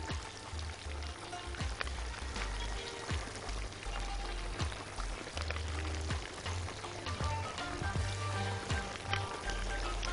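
Marinade is poured over hot grilled mullet, hissing and sizzling steadily with crackling spatters and a liquid trickle, close and continuous for about ten seconds.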